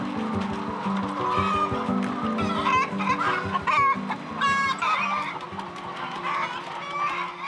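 Laying hens cluck and squawk at an egg farm, a busy, continuous flock din of overlapping clucks and sharper calls, loud and close throughout.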